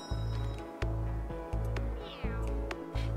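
A cat in the game Cat Café Manager meows five times in a steady rhythm, each call close, clear and tonal, with nothing else competing.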